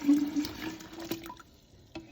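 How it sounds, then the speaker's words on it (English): Water poured from a cup into a larger container, a short splashing and trickling pour that fades as it finishes, close up and quiet with no talk. "Now I'm gonna drop it into this, or pour it into this larger container."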